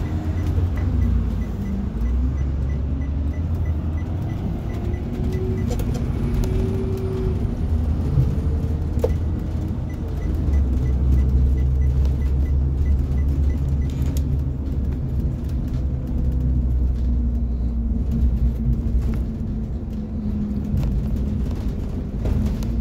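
Interior rumble of an empty school bus on a short ride, a continuous low engine drone with road noise and rattles, steady and close, with no talking.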